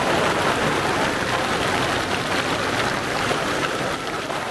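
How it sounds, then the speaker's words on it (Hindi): Heavy rain pours down outside a tent during a snowy mountain night in Munsiyari, a dense, steady broadband hiss with no pauses, close and enveloping. "बाहर बहुत तेज बारिश हो रही है"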